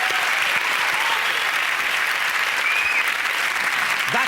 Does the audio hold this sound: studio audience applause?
yes